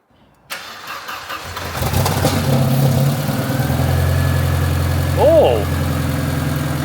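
An 1980s 16-valve saloon car engine catches after more than 20 years unused and settles into a steady, rough idle with a low drone, close and loud, while a brief voice exclaims over it.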